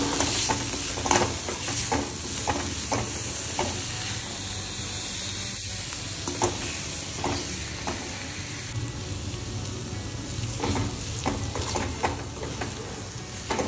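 Washed prawns roasting in oil in a pan for a prawn curry, giving a continuous close sizzle and hiss broken by repeated stirring scrapes and clatters.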